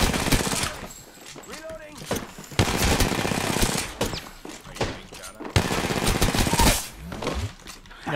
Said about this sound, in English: No, they're being shot at.